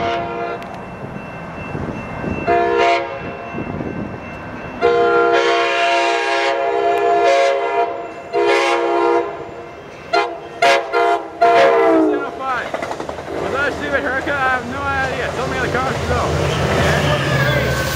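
An Amtrak passenger train races through Sorrento Valley station at speed, sounding repeated loud horn blasts in long and short bursts, then a rushing roar of passing cars as it goes by, with someone talking briefly.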